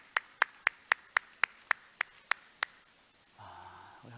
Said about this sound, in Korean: 우리 하나님께 영광을 박수합시다.